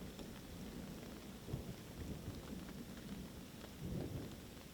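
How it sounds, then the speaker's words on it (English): Low rumbling thunder rolls through a steady rain-like wash outdoors during a disc golf round, with swells of deeper rumble around the middle and near the end. "Every time he goes to throw, there's thunder."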